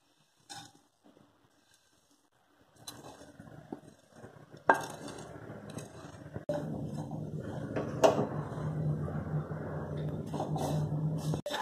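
Coconut powder is stirred in melted ghee in a hot kadai over low heat, with quiet scraping and clinks of the spoon against the pan rising into a steady soft frying hiss.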